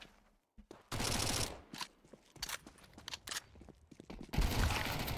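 Counter-Strike 2 shotgun blasts, several loud booming shots in quick succession with broadband bursts, mixed with other game gunfire and footstep-like clatter.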